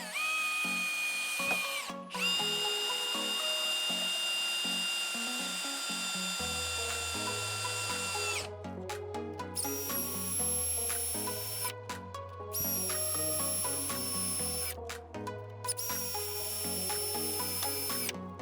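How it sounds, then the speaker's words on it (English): A Hikoki DV 18DBFL2 cordless combi drill drives screws in a series of loud, close whining bursts that speed up and stall, with short pauses between runs and no talk. "First of all, we'll have a look how it performs with the screws."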